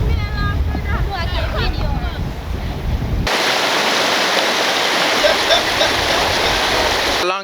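A rural waterway by the Windsor River in Jamaica rushes in a continuous loud wash of flowing water, joined partway through by a stronger, denser burst of flow, with voices faintly in the background early on.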